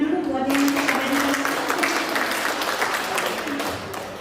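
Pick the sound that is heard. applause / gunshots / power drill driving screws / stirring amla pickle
applause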